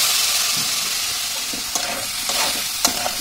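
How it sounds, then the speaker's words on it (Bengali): Ground coriander and cumin frying in a pan for matar aloo curry, a constant close sizzle broken by several sharp scrapes and taps of a stirring spoon. "এবার একটু নেড়ে নিয়ে এতে আমি হালকা জল দিয়ে দেবো, যাতে মশলাটা করে নেব।"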